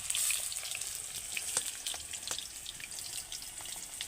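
Pointed gourd (potol) pieces frying in hot oil, a steady soft crackling sizzle throughout with small pops and clicks, close and moderately loud, no voices.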